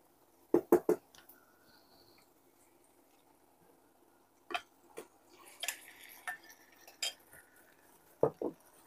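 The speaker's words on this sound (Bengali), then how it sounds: "আমাদের পেঁয়াজটা একদম ভালো করে কষানো হয়ে গেছে, আমরা এখানে মাংসটা অ্যাড করে দেব।" Meat goes into a pan of browned onions and is stirred, heard as a few sharp metallic clinks and scrapes in scattered bursts over a quiet background, close and clear, with no talking.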